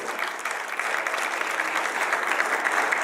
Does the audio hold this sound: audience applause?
yes